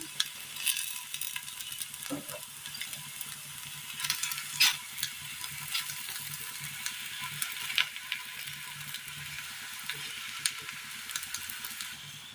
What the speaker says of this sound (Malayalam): ഒന്ന് ഫ്രൈ ചെയ്തെടുക്കണം.